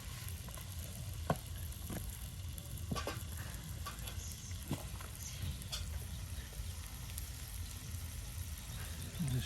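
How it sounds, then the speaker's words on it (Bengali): Chili powder, salt and mixed spices fry in a pan beside pieces of eel fish, making a quiet, continuous sizzle with a few sharp clicks and scrapes from stirring. "লবণ, আপনার সকল প্রকারের মশলা লবণ সব কিছু দিয়ে এখন ভালো করে এই যে কষানো হচ্ছে মশলাটাকে"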